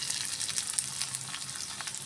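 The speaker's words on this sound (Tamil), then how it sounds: "இது 2 நிமிஷம் நல்லா எண்ணெயில் சுருங்க வதங்கட்டும்" Okra frying in oil with turmeric and salt, a steady soft sizzle with faint crackles, close and unbroken, with no voices over it.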